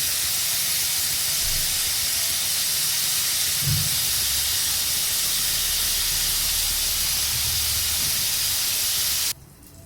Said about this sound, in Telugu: నేను ముందుగా కొంచెం నెయ్యి వేసి ఇందులో కొంచెం పన్నీర్ ముక్కలు కట్ చేసి వేసుకున్నా